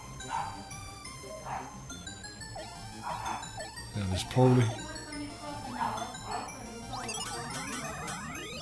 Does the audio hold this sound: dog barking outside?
yes